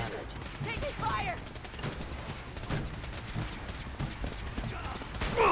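Gunfire during Fallout 4 combat, rapid bursts of shots and clattering rattles mixed with game sounds, moderately loud and continuous, while robotic voice lines call out combat alerts over the action.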